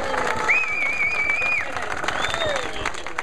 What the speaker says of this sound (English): A huge round of applause to everyone who came.